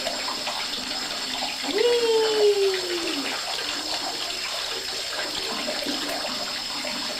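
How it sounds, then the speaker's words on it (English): A small waterfall gives a steady, close, broadband rush of splashing water throughout, while a voice briefly calls out over it with a rising and falling cry. "What do you think of the waterfall?"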